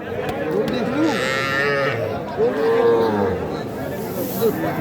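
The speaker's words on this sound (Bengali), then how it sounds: "এটা কিন্তু সাইওল জাতের একটা বকনা বাছুর" Sahiwal heifer calf mooing at a busy cattle market, several drawn-out moos close by, with faint crowd murmur and a few voices in the background.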